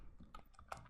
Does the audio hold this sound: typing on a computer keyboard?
yes